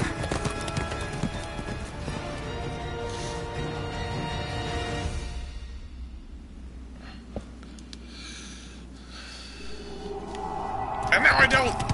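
A horse running in the video game Nioh, rhythmic clip-clop hoofbeats with snorting, loud under game music and sound effects, then thinning out into quieter ambience before a burst of effects at the end.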